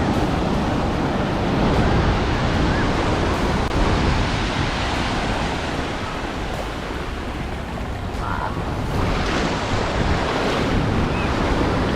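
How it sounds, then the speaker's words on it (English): Heavy ocean surf at Laguna Beach roars continuously, waves crashing and washing in a dense, loud wash of noise with gusts of wind buffeting the microphone. "And the waves are pretty heavy too."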